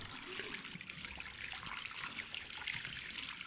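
Running water pours steadily from a tap in the video game Portrait of a Torn, a constant close hissing splash with no voices.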